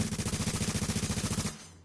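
Rapid automatic gunfire in Tom Clancy's The Division, a loud rhythmic burst of about twenty evenly spaced shots that stops abruptly, alone without talk.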